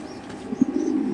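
Kaldom pigeons at a pigeon seller's stall give soft, low cooing, with a couple of brief rounder coos rising over a quiet, muffled background.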